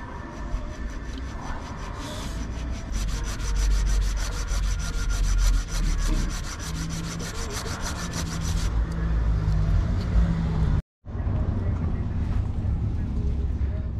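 A steady, rasping saw strokes through a metal ring stuck on a swollen finger during a rescue, loud and close throughout with a brief cut-out near the end.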